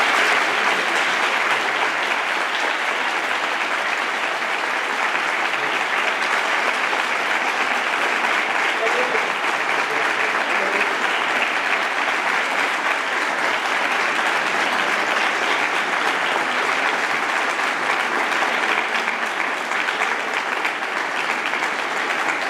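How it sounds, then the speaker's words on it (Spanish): An audience gives sustained applause to a lecture speaker after a talk on literature, a broad, even roar of many clapping hands holding steady for over twenty seconds without pause. "los merecidos aplausos que me gustaría que entre todos le dedicásemos por su tiempo aquí"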